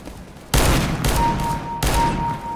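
A revolver fires rapidly in the video game CS:GO, giving three loud, close shots, each ringing out and decaying before the next, with no talk.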